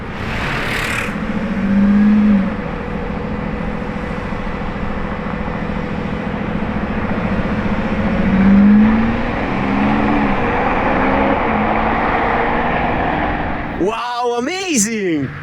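An orange Lamborghini Revuelto passes at speed, its engine roaring and swelling as it goes by, with a louder surge near the end; people talk loosely over the continuous road noise.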